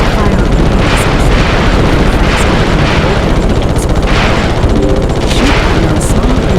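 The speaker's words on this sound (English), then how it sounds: "Press the square button to fire the machine guns, and press the circle button to fire on the missiles." Dense, loud barrage from the Ratchet and Clank game, with machine guns rattling rapidly and missiles firing and exploding in repeated booms, one burst after another with no let-up.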